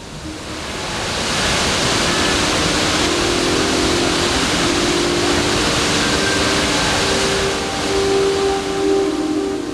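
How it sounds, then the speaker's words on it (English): Blue Nile Falls in Ethiopia roars as a loud, steady, broadband rush of falling water that holds unbroken throughout, with no voices. "This is the spectacular Blue Nile Falls."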